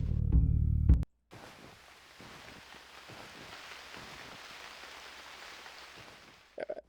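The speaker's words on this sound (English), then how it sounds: "Small hours, it's still raining." Steady rainfall in the survival game Unreal World, a soft, even hiss that starts after a short burst of louder game noise, with faint patters and a brief clatter at the very end.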